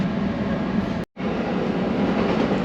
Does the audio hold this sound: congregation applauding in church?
no